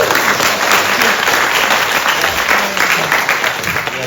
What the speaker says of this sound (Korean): 우리 공부부장 이광현 선생님 큰 박수 다시 한번 부탁드립니다.